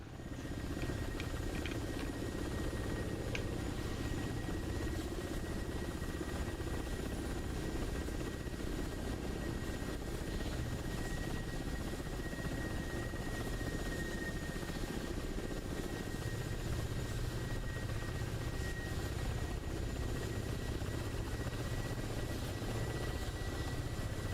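Mi-24 helicopter in the Holiday Junction game during a Santa vs Grinch PvP match, a steady, loud rotor and engine drone that holds unbroken throughout with no one talking.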